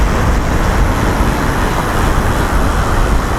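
Constant road rumble of a car approaching from behind, engine and tires steady and fairly loud throughout with no voices.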